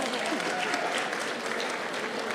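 An audience at a British Bangladeshi awards gala in a venue applauds, a dense steady wash of many hands clapping, fairly loud and continuous throughout.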